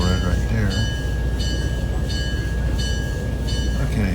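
A train at the Tennessee Valley Railroad Museum rumbles along steadily and loudly up close, with a sustained squeal or whistle tone and rhythmic clatter from the wheels.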